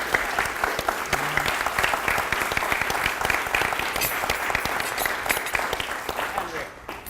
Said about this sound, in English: Let's give Andrea and our panel a warm round of applause.